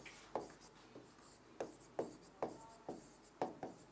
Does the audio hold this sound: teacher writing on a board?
yes